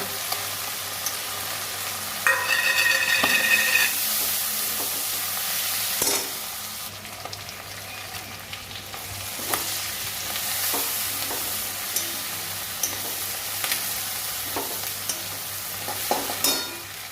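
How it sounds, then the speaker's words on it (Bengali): Chopped onion sizzles in mustard oil left from frying fish, a continuous crackling fry with repeated stirring scrapes and a brief metallic clink near the start, no talking. "সর্ষের তেল দিলাম মাছের তেলটা ভাজা হয়ে গেছে এবার আমি একটা পেঁয়াজ দিয়ে দিচ্ছি কুচিয়ে"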